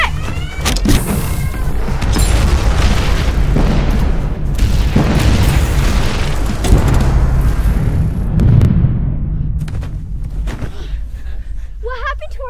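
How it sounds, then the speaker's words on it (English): Power Rangers Megazord self-destruct blast: a sustained run of loud booming explosions and heavy rumbling impacts lasting several seconds, with raised voices mixed in, tapering off near the end. "The Megazord has initiated a self-destruct sequence."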